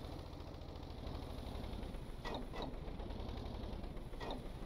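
A boat engine idles in reverse in the Stormworks video game, a steady mechanical drone with a faint rhythmic ratcheting. A few brief hissing bursts rise over it, and the whole thing stays moderately loud throughout.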